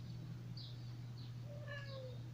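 A house cat gives a short, faint meow, a rising and falling cry heard once near the end over a steady low hum.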